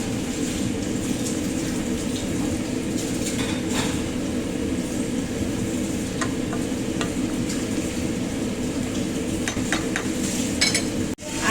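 Chicken pastel being stirred in a pot: steady sizzling bubble with intermittent scraping clinks of a utensil against the pot, continuous and close throughout.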